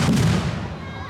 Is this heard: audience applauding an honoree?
no